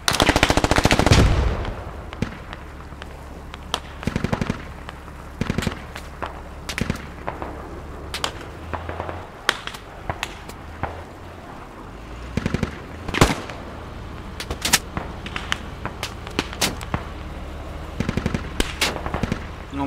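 Machine gun fire in the military shooter Squad, bursts and single cracks rattling repeatedly over about twenty seconds, some loud and close, others distant, with no talking.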